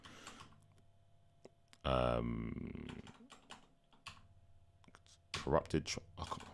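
Computer keyboard typing while tracks in a large music library are renamed, bursts of quick close keystrokes broken by a loud sustained sound in the middle, with talking over parts of it.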